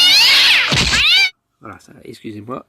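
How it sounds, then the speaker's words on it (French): A house cat gives one long, loud, close meow, and then someone speaks French in short phrases. "il y a mon chat qui vient me faire chier."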